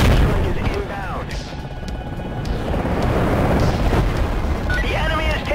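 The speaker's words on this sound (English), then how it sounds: "Requesting mortar strike at these coordinates. Coordinates received. Strike is inbound." Mortar strike explosions in Battlefield 2: Modern Combat, heavy rumbling booms rolling continuously and loud, mixed with distant gunfire and brief in-game voice chatter.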